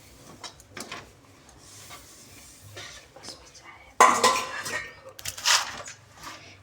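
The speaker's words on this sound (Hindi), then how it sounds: "उसे हिलाते रहें।" Sesame seeds stirred into melted jaggery in a kadhai, with scattered scrapes and clinks of a spoon against the metal pan, growing louder and busier in the latter half.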